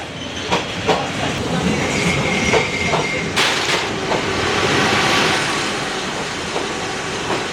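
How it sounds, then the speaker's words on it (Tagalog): A train rolls past in Vietnam, loud and close, with a continuous rumbling roar, rhythmic clicking of wheels over rail joints and a brief hissing burst partway through. "Ayan na, bye-bye train."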